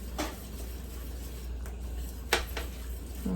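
Melting cheese is stirred in a pot for mac and cheese, giving soft scraping and a few distinct clinks of a utensil against the pot over a low, steady background hum.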